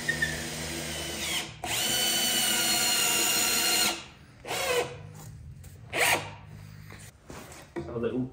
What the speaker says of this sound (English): I'm going to wind the screw through as deep as the drill will go.